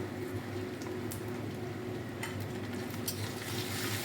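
Ginger paste sizzles in hot oil in a frying pan while a Bengali khichuri is being cooked. A steady, soft crackling hiss runs throughout, with a few faint sharper pops and stirring scrapes and no voices.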